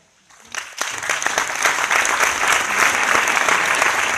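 Audience applause at an entrepreneurship event for a chamber of commerce vice-president: a few scattered claps start it, then it swells quickly into full, steady clapping that stays loud to the end.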